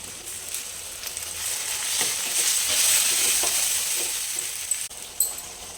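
Four medium chopped tomatoes hit a hot oil pan for an aloo tomato gravy curry, sizzling and crackling steadily at close range while a spoon scrapes and stirs, with a sharper clatter near the end.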